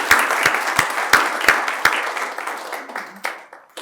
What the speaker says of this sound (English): let's give a round of applause to the volunteers and to the donors